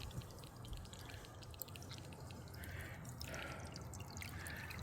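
Water trickles and drips faintly through small tubes on a hummingbird birdbath, a quiet, steady patter with scattered droplets heard close up and alone.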